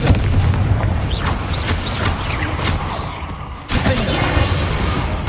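Rapid spell blasts and explosive booms from Hogwarts Legacy combat, a dense, continuous barrage of crackling impacts and whooshes with a brief dip before the loud bursts resume.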